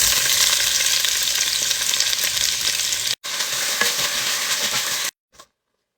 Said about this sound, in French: je vais commencer par faire revenir oignons, poireaux et céleri ensemble avec sel et poivre